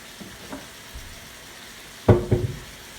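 Chicken rasta pasta seasoned with Maggi is stirred in a pan, giving a faint scrape early on, then a louder burst of clattering sizzle and stirring just past the midpoint that trails off in short bursts.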